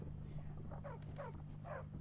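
Dogs in Minecraft (Feed The Beast Revelation modpack) give a few short yips and whimpers, faint and spaced apart over a low steady background hum.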